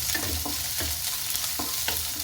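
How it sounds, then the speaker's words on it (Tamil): Onion and green chillies sautéing in a pan, a soft continuous sizzle broken by several scraping stirs of a spoon. "ஒரே ஒரு வெங்காயத்தை ரொம்ப வதக்க விட வேண்டாம்."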